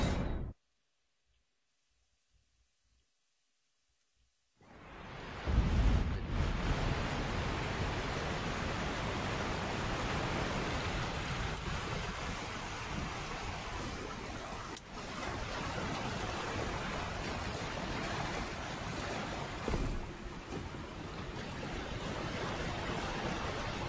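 A waterfall in the video game Elden Ring, a steady broadband roar of rushing water that starts abruptly after a few seconds of near silence and continues loud and constant.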